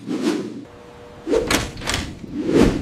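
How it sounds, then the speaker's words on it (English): A door slams and thuds several times indoors, heavy close knocks and bangs with a short quiet gap between them. "Someone slams a door."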